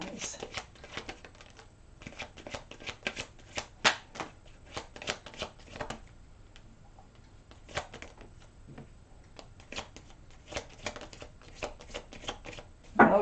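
Deck of tarot cards being shuffled up close, a rapid series of soft riffling bursts and taps with short pauses between, alone without talk.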